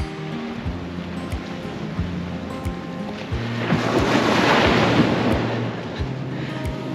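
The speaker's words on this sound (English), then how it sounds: "Beautiful beach." Surf washes onto Smith's Beach on the Cape to Cape coast: a near, swelling rush of breaking waves peaks midway and then eases. Low thumps and wind buffeting on the microphone run through it.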